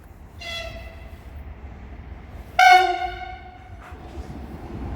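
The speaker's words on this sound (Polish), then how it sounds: "A tu wjeżdża opoczniankowy dart, tak." A Dart passenger train in the Opocznianka livery sounds two loud, tonal horn blasts as it pulls into a station. One blast comes early and one comes later, over a steady low rumble of the train.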